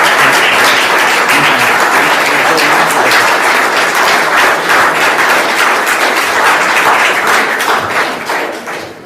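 People in a courtroom clap for a lawyer in a loud, sustained round of dense applause that holds steady for several seconds before tapering slightly at the end.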